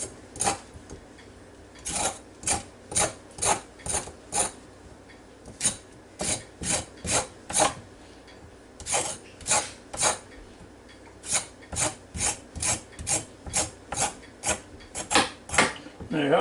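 Raw parsnips scraped by hand with a blade, a long series of quick rhythmic rasping strokes in bursts with short pauses, close and clear, no talking.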